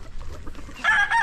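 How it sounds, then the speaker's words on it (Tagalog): Fighting cocks and other chickens give low clucks, then a rooster bursts into a loud, close crow that fills the last half of the short moment. "Tapos si Lolo Boy, ayan yung mga manok niya."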